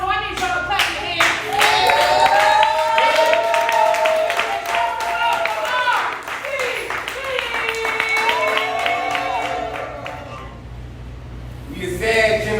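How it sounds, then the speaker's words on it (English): Spectators at a Houston spoken-word poetry event clap their hands in rhythm, sharp repeated claps running steadily over music and voices before thinning out near the end. "So I need y'all to clap your hands."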